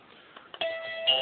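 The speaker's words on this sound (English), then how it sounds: "so I'll just do the bell." A doorbell rings indoors with a clear two-tone chime, the first tone sounding about halfway through and a second following, fairly quiet over near silence.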